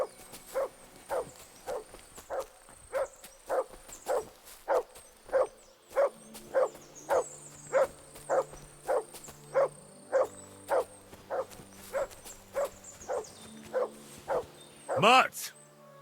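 A dog in the video game Kingdom Come II barks steadily and loudly in a regular series of about twenty barks close by, with a sharper yelp near the end.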